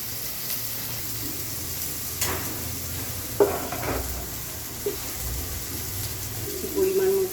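Onions fry in oil in a wok, producing a soft, steady sizzle with occasional stirring clatter, while a dove coos faintly in the background and a few brief knocks punctuate the scene.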